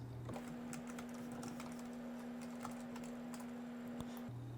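Quiet tapping of a computer keyboard as a short phrase is typed, light irregular clicks at low volume over a faint steady hum.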